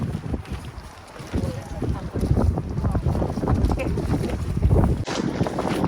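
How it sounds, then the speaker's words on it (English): Wind gusts across the microphone on a small pecan farm during harvest, a loud, steady low roar that swells and rumbles throughout. "Unfortunately, the wind has found us again."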